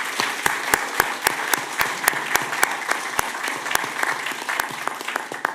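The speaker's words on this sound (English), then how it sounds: "Let's give them another round of applause." At a city commission meeting, a room full of people applauds youth football and cheerleading teams, with steady clapping and sharp, close individual claps standing out throughout.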